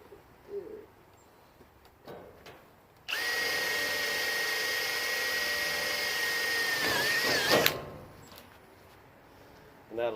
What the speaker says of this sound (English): I'm actually gonna use a drill bit first, punch the holes into it for the screws